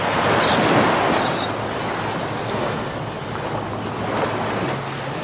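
Ocean waves wash steadily onto a beach in Bali, a continuous loud surf roar with gusty wind buffeting the microphone.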